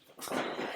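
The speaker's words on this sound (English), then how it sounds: "so the noise you hear is my dogs" An old dog whimpers briefly, a soft, strained whine close by with no other sounds around it.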